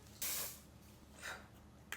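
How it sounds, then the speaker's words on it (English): Hairspray from an aerosol can hisses onto hair in two short bursts, the first longer and louder, the second softer, close to the mic in a quiet room with no talking. "I usually hairspray at this step, so I kind of just spray that everywhere."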